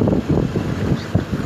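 Strong wind, part of a 180 km/h storm in Arcoverde, Pernambuco, buffets the microphone in loud, uneven rumbling gusts that rise and fall with no voices.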